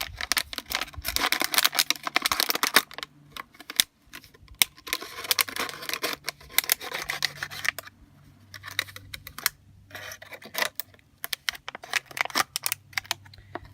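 Scissors or a blade cutting through the thin plastic of a drink bottle's middle ring to make a minnow trap, heard close as a run of crisp snipping and crackling bursts with short pauses between them.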